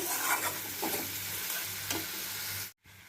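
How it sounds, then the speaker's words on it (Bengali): Green chilies and onions stirred in hot frying oil in a pan, a steady close sizzle with a few scraping strokes of the spoon, then a brief cut-out near the end. "কাঁচা লঙ্কাটাকেও ভালো করে মিশিয়ে নেব পেঁয়াজের সাথে"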